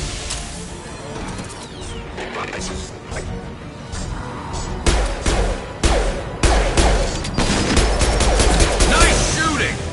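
Impact-shot gunfire in the sci-fi shooter Mass Effect 2: loud, irregular bursts and heavy cracking shots, with several big booming impacts in the second half over a busy battle bed.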